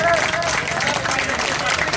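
A crowd claps and cheers at a guest teachers' protest sit-in in Patna, with dense continuous applause mixed with shouting voices and crowd noise.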